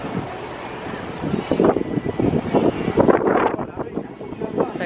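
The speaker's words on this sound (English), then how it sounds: "it's not cold, but it's quite windy" Gusty wind buffets the microphone in rough, uneven bursts, with a low rumble underneath and a faint, indistinct voice.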